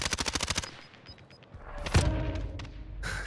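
Rapid automatic gunfire in Warzone on Rebirth Island, a quick rhythmic burst of about ten shots at the start, followed by a heavy boom and rumbling impact.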